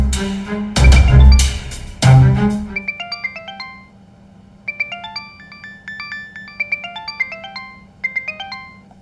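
A telephone rings with a melodic electronic ringtone, loud and close, repeating short chiming phrases in bursts with brief gaps after a few heavy thumps at the start.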